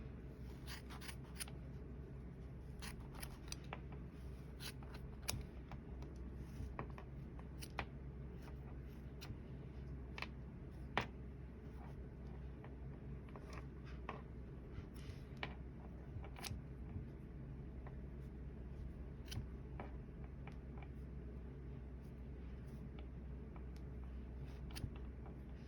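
Small sharp snips of embroidery scissors cutting looped thread while making a tassel, scattered and irregular over a quiet background hum, close and faint.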